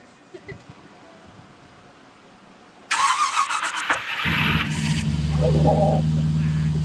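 A car engine cranks and fires at a comic convention, a burst of starter noise followed by a loud, steady idle with low rumble that holds to the end, while people talk faintly beforehand.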